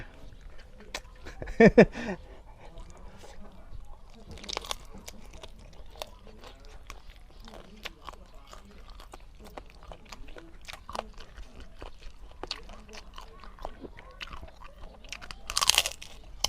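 Crispy Thai pork crackling is chewed close up with sharp, repeated crunches and bites scattered throughout, a few louder crunch bursts standing out, while people talk faintly in the background.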